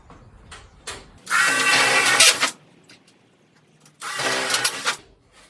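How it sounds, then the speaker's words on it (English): Two bursts of loud, high-pitched drilling through sheet metal panels on a 1971 Ford F100 truck, each lasting about a second, separated by a short quieter gap with small clicks and handling noises. "Get yourself a nice sharp drill bits, and it makes it super easy."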